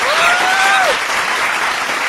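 A short burst of crowd applause and cheering plays as a sound effect on a political talk show. It is loud, dense clapping with a rising whistle at the start that fades out over about two seconds.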